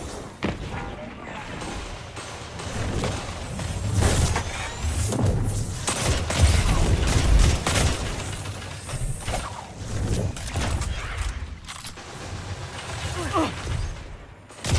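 Gunfire in the Destiny video game with heavy booming shots and thuds in a dense, continuous barrage, and a voice talking over the combat.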